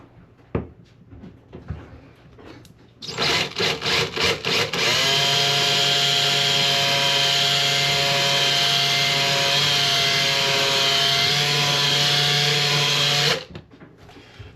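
A power drill whines steadily at close range for about ten seconds after a few short bursts, then stops abruptly, while drilling a pilot hole during bathroom light fixture installation.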